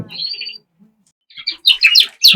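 Caged breeding cock birds in a bird room chirp in short bright bursts, a thin call first, then quick clustered tweets after a pause, close and fairly loud.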